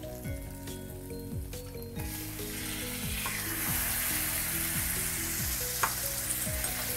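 Ginger garlic paste frying in a pan for dahi chicken: a continuous bright sizzle that swells midway, with light stirring clicks and a background of musical tones.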